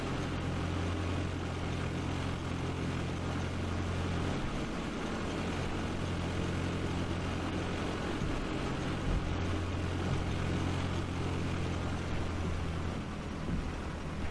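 Cessna 172 engine running at a steady drone while taxiing in a flight simulator, a continuous near, loud propeller hum with low rumbling tones that shift slightly partway through, no talk.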